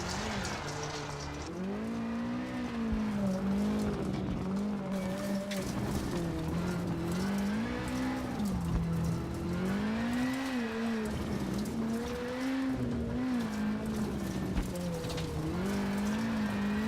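Rally car in a WRC2 class in the WRC7 video game at Rally Mexico, engine droning and wavering as it slides through a botched handbrake turn, steady and loud throughout with no talk.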